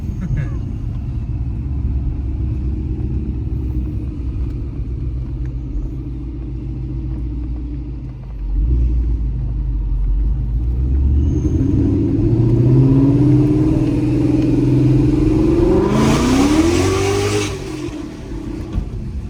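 A loud Vortech-supercharged 2016 Ford Mustang GT engine rumbles steadily, then revs up hard with rising, whining pitch before settling back, close by with voices faintly under it.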